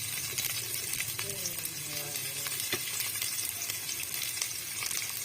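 Chopped onion sizzling in a hot pan for chicken nilaga, a steady broadband frying hiss with scraping stirs and a brief clink, while a voice talks faintly over it.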